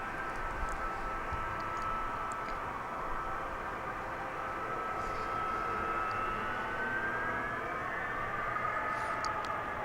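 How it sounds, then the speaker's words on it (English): A jet aircraft passing near DFW International Airport, a steady broad roar with a faint rising engine whine, continuous and moderately distant for the whole stretch, no talk over it. "You might hear another jet over there."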